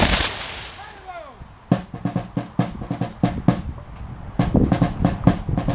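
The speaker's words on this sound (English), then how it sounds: "Take aim! Fire!" Muskets fire a ceremonial volley at a Revolutionary War commemoration held at a patriot's tomb, a ragged string of sharp, loud cracks arriving in quick bursts with a short pause midway. Brief calls and a whistling sweep come just before the shots.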